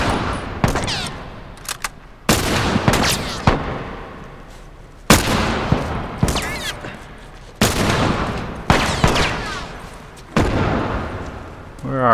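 Loud gunshots in The Last of Us Remastered: sharp single blasts spaced a couple of seconds apart, each trailing off in a short echoing decay, with a voice talking in between.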